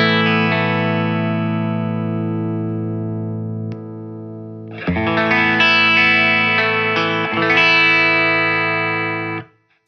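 A clean electric guitar tone played through an overdrive pedal: a sustained chord rings and slowly fades, then a brighter strummed passage follows before cutting off abruptly.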